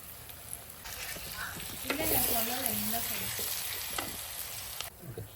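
Chopped tomato and shallots frying in a pan for a fish curry, a steady close sizzle with stirring scrapes and faint speech in the background.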